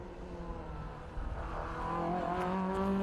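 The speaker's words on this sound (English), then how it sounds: "2-litre Ford Escort. Very quick through turn 1." A 2-litre Ford Escort race car powers through the first turn at a historic grassroots sprint meeting, its engine note droning steadily and building louder and closer as it rises in pitch across a few seconds.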